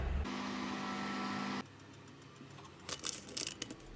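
A microwave oven hums steadily while cooking homemade potato chips, a low, even drone that cuts off after about a second and a half, followed by faint clatter.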